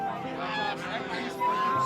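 A goose honks in a busy village market in Narayanganj, a few nasal calls rising over the crowd's murmur and other market noise.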